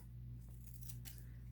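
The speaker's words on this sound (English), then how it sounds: "it might be easier just to cut it with my scissors real quick." Scissors snip through paper at close range, a short crisp cut over a steady low room hum.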